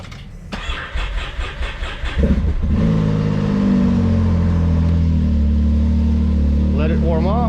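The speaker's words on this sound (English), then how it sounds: "start the engine for a minute or so" A BRP Can-Am Maverick X3 side-by-side engine cranks briefly, catches and settles into a loud, steady idle close by, with a faint voice near the end.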